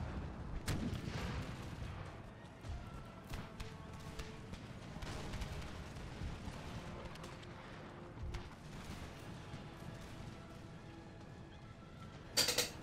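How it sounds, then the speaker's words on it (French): Cannon fire in the battle video game Empire: Total War comes as scattered distant booms and cracks against a rumbling battlefield backdrop, with one sharper, louder report near the end. "Mes canons continuent à tirer dans la masse."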